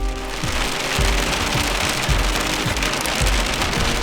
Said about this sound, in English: A little sleet come on.